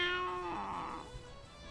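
A single drawn-out cat meow sounds close and clear from a stray cat in the visual novel If My Heart Had Wings, sliding downward and fading into quiet.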